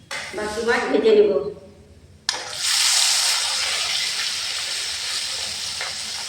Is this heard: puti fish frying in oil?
yes